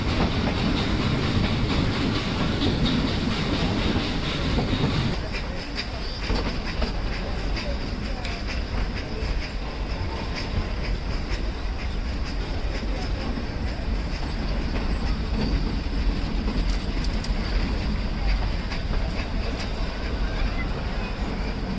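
The Ooty toy train of the Nilgiri Mountain Railway runs past a railway crossing, a steady loud rolling rumble with faint clickety-clack continuing throughout, heaviest in the first few seconds.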